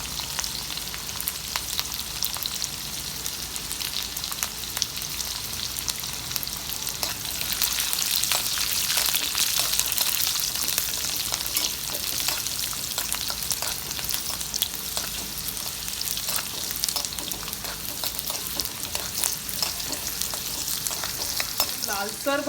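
Garlic frying in oil for a sweet kokum pickle makes a continuous, even sizzle with soft stirring, growing a little louder midway and heard alone without talk.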